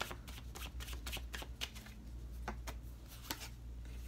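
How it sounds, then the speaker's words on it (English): Oracle cards are shuffled by hand during a tarot reading, a close, quiet run of papery riffles and soft slaps repeating in quick irregular bursts with no voice over them. "I'm going to pull an oracle card for you first."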